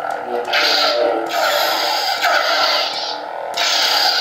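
A buzzing electronic lightsaber hum from a custom saber's sound font swells and shifts as the blade swings through several whooshing sweeps in quick succession, fairly loud and close.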